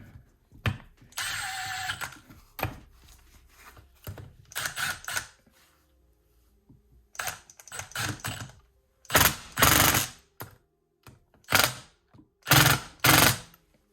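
Phillips screws are driven into a Yamaha Blaster two-stroke engine's clutch cover with a power driver, which gives several short, loud mechanical whirring bursts separated by pauses, close up with no talking.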